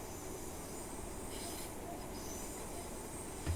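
A Class 156 diesel train runs on the Derwent Valley Line in Train Simulator, near Matlock Bath and a long tunnel. It makes a steady, loud rumble and roar with faint wheel noise, and no talk.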